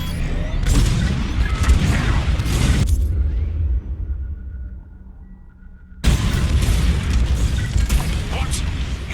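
Bombs exploding during a raid in the Star Wars: Squadrons space combat game, heavy rumbling blasts roaring for several seconds, dropping to a brief near-silent lull with a faint tone, then erupting again at full loudness.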